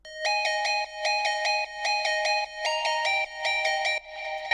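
Plucky Vital synth layer soaked in reverb and delay, sounding as a run of bright bell-like plucked chords with ringing tails, a steady rhythm of about six repeated hits, close and alone with no talking.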